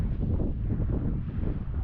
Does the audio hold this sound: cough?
no